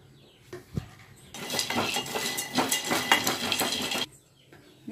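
Peanuts dry-roasting in a kadhai are stirred with a metal spoon, making a close rattling, scraping burst for about three seconds between quieter clinks.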